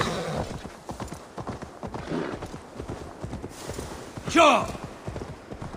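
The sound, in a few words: horse hooves clip-clopping in Assassin's Creed Valhalla video game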